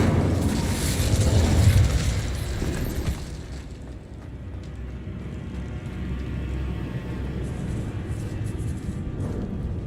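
A fiery Incendio spell blast in the Hogwarts Legacy video game, a loud burst of roaring flame up front that fades into a rumbling, crackling fire under a low ambient bed.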